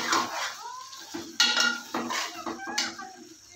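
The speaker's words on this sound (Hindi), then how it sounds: "इसे अच्छी तरह मिक्स कर लेंगे।" A metal spoon stirs Peshawari street-style charsi chicken karahi in a pan, with close clanks and scrapes against the metal in an uneven rhythm and a faint sizzle beneath.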